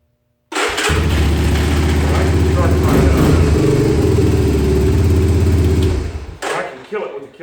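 A four-wheeler engine, hot-wired by touching its red and white wires together, cranks and catches almost at once, then runs loud and close at a rough, throbbing idle for several seconds before cutting out abruptly.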